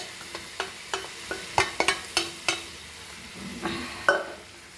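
Goan beef biryani meat with broth stirred in a pot, a series of sharp spoon-against-pot scrapes and knocks in an irregular rhythm over a faint sizzle, close and moderately loud.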